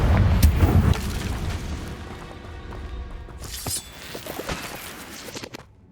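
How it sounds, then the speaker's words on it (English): A Confringo fire spell in the video game Hogwarts Legacy lands as a deep, heavy boom at the start. A rumbling, crackling tail follows, with a second burst of blast noise partway through, loud and close. "Confringo!"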